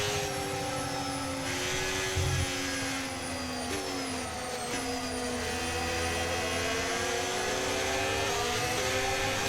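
Several Formula 1 car engines, including Mercedes units, scream at high revs in the F1 25 racing game, a dense sustained whine with pitch shifts as gears change, steady and loud throughout with no talk.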